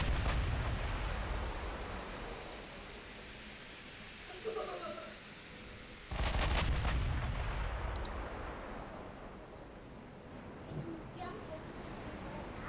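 Artillery salvos firing in a video game, heavy low booms rumbling over steady background noise, with a second strong blast midway, while a voice talks faintly.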